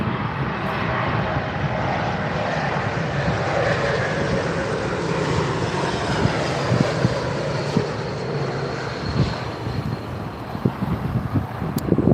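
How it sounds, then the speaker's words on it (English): Swiss Airbus A220 arriving on runway 27R at London Heathrow, a continuous loud jet engine rumble with wind buffeting the microphone throughout. "Swiss Airbus A220, or as most of us know it as, the C Series."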